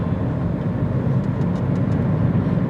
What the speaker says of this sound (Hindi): ये टायरों का साउंड ज़रूर आ रहा है